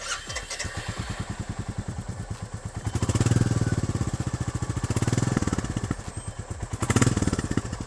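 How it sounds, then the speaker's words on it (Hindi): A 2025 Royal Enfield Bullet 350 single-cylinder motorcycle with stock exhaust idles with a steady, thumping exhaust beat, revving up briefly a few times before settling back to idle. "तो अब इस बुलेट का भी स्टॉक एग्जॉस्ट एक बार व्यूअर्स को सुना देते हैं"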